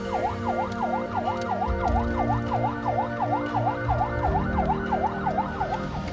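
Ambulance siren on a volunteer-escorted emergency run through traffic, a fast, continuous wailing yelp cycling rapidly and loudly over road noise.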